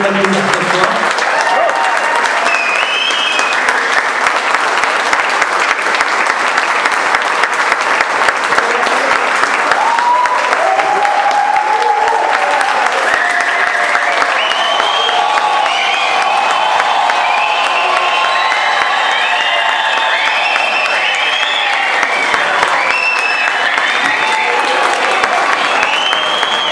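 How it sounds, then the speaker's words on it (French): A large audience bursts into long, loud applause with cheers and whoops rising through it, the clapping dense and sustained for nearly half a minute while scattered voices shout over the crowd. "je pense qu'on peut l'applaudir cette fois"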